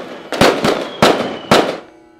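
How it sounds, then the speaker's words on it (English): Diwali firecrackers go off close by in four sharp, loud bangs over about two seconds, each followed by a crackling decay that fades at the end. "starts firing the crackers"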